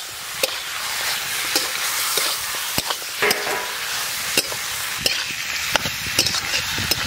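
Duck meat for a village-style Bengali duck curry hits a hot pan with turmeric and salt, hissing in a steady sizzle while a utensil scrapes and knocks against the pan in irregular stirring strokes, close and clear with no talking.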